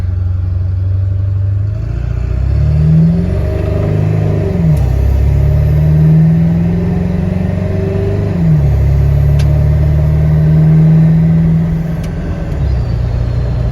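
A 7.3 diesel engine fitted with upgraded turbos revs up and back down several times, its deep, loud drone rising and falling in pitch, running alone with no talk.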